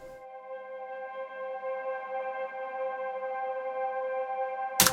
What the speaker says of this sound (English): I've just got a pad that is running a C fifth